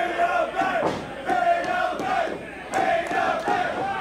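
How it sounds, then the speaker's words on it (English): A wrestling crowd at a tag-team match cheers and shouts in loud, surging waves that rise and fall over a few seconds, with a mass of voices close and continuous. "Crowd coming alive for TME"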